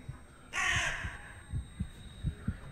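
Several crow caws burst out together in The Cursed Forest video game, loud and close for about half a second, then fade under a dull, low, rhythmic throbbing like a heartbeat.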